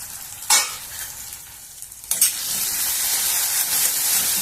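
Tomato and onion cooking down in a pan for a brinjal masala curry, with a loud steady sizzle and frying hiss that swells after a couple of stirring scrapes and carries on with no voices.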